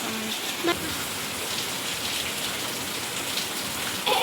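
Heavy rain pours down steadily outdoors, a dense, even hiss of drops striking surfaces nearby with a couple of brief louder splashes.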